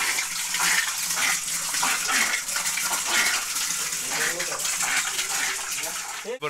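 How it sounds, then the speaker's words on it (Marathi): Morning tap water pours into a container in a Konkan village near Khed, a loud, steady, close gushing rush that runs unbroken throughout. "इकडे पाणी भरतोय एकदम."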